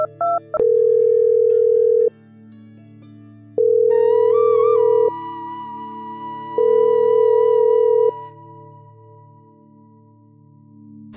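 Telephone ringback tone repeating with no answer, a loud steady electronic buzz that sounds in long bursts separated by pauses, with a quieter background tone between the bursts.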